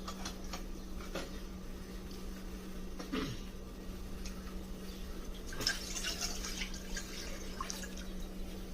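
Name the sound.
milk being poured slowly into pot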